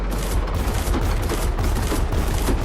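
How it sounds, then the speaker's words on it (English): Grenade blasts in the War Tycoon video game fire as a dense, continuous rumbling barrage of booms and crackling bursts, loud and close for under three seconds with no talking. "Let me test out my grenades on you."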